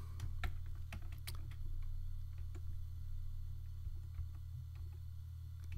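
Quiet, irregular typing of code on a computer keyboard, scattered key clicks in short bursts over a steady low electrical hum, with no talking.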